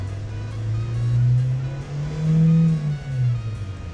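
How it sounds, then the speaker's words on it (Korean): Engine of a Kia K5 (The New K5) car revving up and down in stages, a few swells with pitch rising and falling, heard close by through an open window, with no talking. "엔진 소리를 다 듣기 위해서 창문을 열고 볼 거고 출력을 올려볼 거예요"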